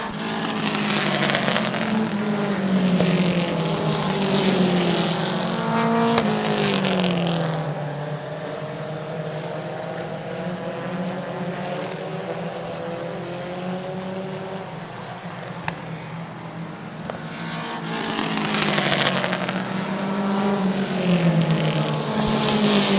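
Race cars lap a track during a racing event, engines droning loudly and continuously, swelling as cars pass close and falling back to a steady distant roar in between.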